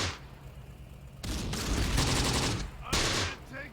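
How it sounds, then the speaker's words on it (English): A machine gun rattles in Close Combat: The Bloody First, a World War II battle game, with long sustained bursts of rapid automatic fire, loud and close, separated by a brief pause before another burst. "everybody's panicking from this MG up there on top"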